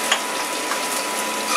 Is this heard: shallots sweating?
yes